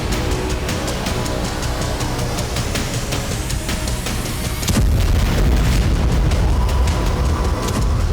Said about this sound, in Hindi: हवा में विस्फोट हो रहे थे